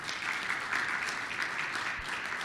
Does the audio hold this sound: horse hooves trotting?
no